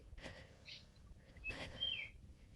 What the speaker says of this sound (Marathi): सकाळचं मस्त पक्ष्यांची आवाज येत आहेत बघा.